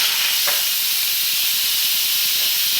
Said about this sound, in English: So that's all the steam coming out.